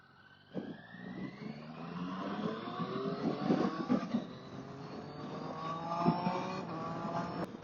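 A 2012 Triumph Street Triple R 675 motorcycle is ridden with its engine climbing and dropping through repeated rising revs and gear changes, heard steadily and fairly close under wind rush.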